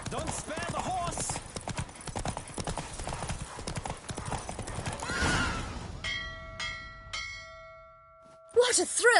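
Galloping hooves pound close and fast during a horse race in The Witcher 3, fading out midway as bell-like chimes ring, then a sharp loud whinny bursts in at the end, with voices earlier.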